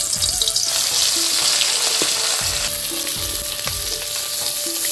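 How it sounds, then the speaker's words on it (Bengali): Hilsa fish frying in hot oil in a home kitchen, giving a loud, continuous sizzle and crackle with a few soft clinks of utensils, close up and without speech. "তেলটা গরম হয়ে গেছে, এখন দেওয়া দিব মাছ।"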